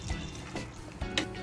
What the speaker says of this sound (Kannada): ಎಲ್ಲ ಮಿಕ್ಸ್ ಆಗಿದೆ ಈಗ ನಾನು ನೀರು ಹಾಕ್ತಾ ಇದೀನಿ